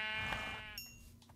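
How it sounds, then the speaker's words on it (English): A sheep in the video game Minecraft gives a single nasal bleat, loud and close, followed by brief faint game sounds. "there's a lot of sheep"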